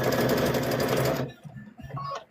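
A sewing machine runs a blanket stitch across rope, loud steady motor whirr and needle chatter for about a second before stopping, followed by faint handling sounds and a brief restart.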